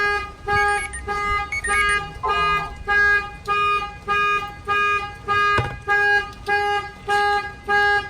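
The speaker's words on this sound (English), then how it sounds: "Anywhere that you bang on it, the alarm will fire off." A boat's anti-theft alarm blares in steady repeating pulses, loud and close, with a few knocks and faint voice in the background.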